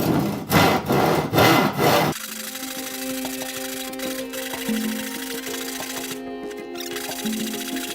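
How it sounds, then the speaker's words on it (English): Number 12 hand saw cutting down a flood-damaged wooden door, a few loud rhythmic rasping strokes that stop after about two seconds, followed by quieter handling and background hum. "Now using my favorite number 12 saw,"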